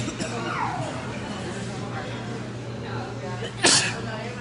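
A single sharp sneeze bursts out near the end over a steady background hum, after a quiet stretch with faint room noise.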